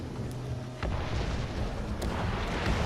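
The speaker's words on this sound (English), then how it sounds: "So those 3 torpedoes definitely obliterate the Graf Spee" Torpedoes slam into the Graf Spee in World of Warships Legends, a heavy boom followed by sustained rumbling blasts and a few sharp secondary bursts, loud and noisy throughout.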